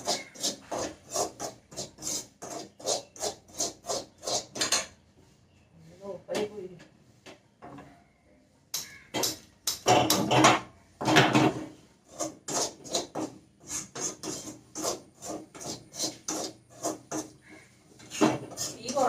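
Coriander, chili and garam masala powder dry-roasting in a pan, heard as a run of rhythmic scraping and stirring strokes against the pan, broken by a short pause, with a voice talking over parts of it.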